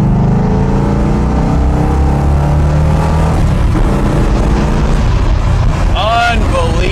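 1981 Corvette ZL1 with a 427ci V8 pulling hard in second gear from low revs, a loud, close engine roar climbing steadily in pitch, with a voice briefly audible near the end.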